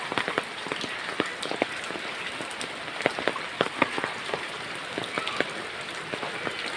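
Steady rain falls over a village, pattering densely on surfaces with scattered louder drips and splashes standing out from the constant wash of drops, fairly close and with no voices.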